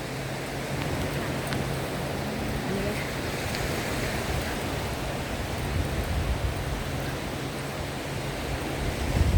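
Steady broadband wash of sea waves rolling onto a beach along a walking path by the sea, continuous and fairly close, with faint wind and a few distant murmurs.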